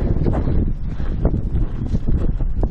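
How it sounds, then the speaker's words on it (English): Gusting wind buffets the microphone outdoors beside a greenhouse under construction, a steady loud rumble of broadband noise with rustling surges throughout and no speech. "by golly, that wind's back again"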